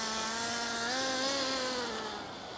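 A 21-year-old nitro RC car engine runs roughly, a loud, close, raspy buzz whose pitch wavers up and down unevenly before dropping off slightly near the end, with no talk.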